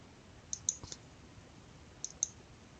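Sharp computer mouse clicks on an OK button, two quick pairs about a second and a half apart, close and crisp over quiet room hiss with no talking.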